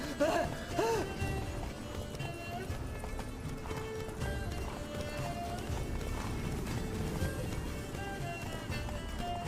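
Geralt's horse Roach galloping in The Witcher III: Blood and Wine. Steady, rhythmic hoofbeats run for the whole stretch, set in game ambience and music, with brief voices.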